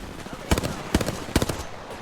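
Gunfire in the battle-royale shooter Apex Legends: three short bursts of rapid shots spaced about half a second apart, fairly close and punchy, with game sounds and background chatter between them.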